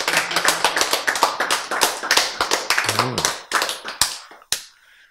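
Audience at a lecture claps in a quick rhythmic run of sharp close hand claps that thin out and stop, with a brief voice partway through.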